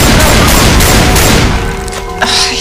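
Loud, sustained volley of gunfire in the zombie video game Haunted Forest, with shotgun blasts dense and continuous for about a second and a half before tapering, plus a sharp extra shot near the end.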